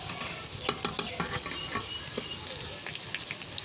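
Cumin seeds frying with browned chopped onion and garlic in a pan: soft continuous sizzle with clicky spatula stirring taps, close and fairly quiet, no talking.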